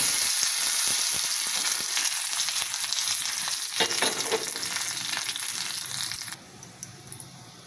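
Mustard seeds and dried red chillies crackle and sizzle in hot coconut oil for a Tamil moor kulambu tempering, loud and close with sharp pops and stirring scrapes, fading to a quieter hiss near the end; no voices.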